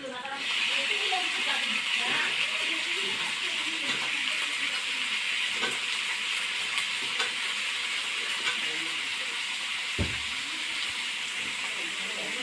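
Papaya pieces drop into hot oil with browned onions for a Bangladeshi silver carp curry, giving a steady, fairly loud sizzle and hiss with stirring clatter and one sharp clunk near the end, no talk.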